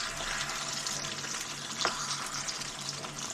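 Chicken sizzles and fries steadily in a pan while sour mango pickle is stirred in, a close, even crackle with a soft scrape of mixing and no talk.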